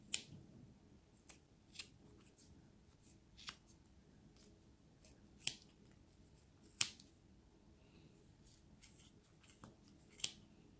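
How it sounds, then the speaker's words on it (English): Scissors snip through yarn wrapped on a pom-pom maker, a crocheted hat project, in sharp separate cuts at an uneven pace, close and fairly quiet with no talking. "now you're going to take your scissors and you're going to cut around this side"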